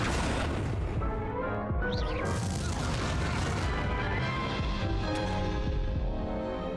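Confringo spell blasts in Hogwarts Legacy erupt as heavy, booming explosions amid dense combat noise, with crashing impacts and a bright whooshing sweep layered over a continuous loud rumble.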